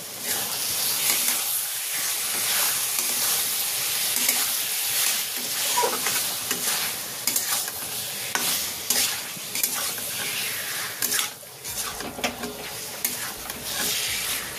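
Lote (Bombay duck) fish is stir-fried in spice paste in a pan, a close, busy sizzle with constant spatula scraping and stirring, loud and uneven throughout and easing near the end.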